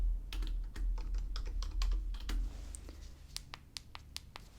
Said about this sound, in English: I have to program it here with my computer.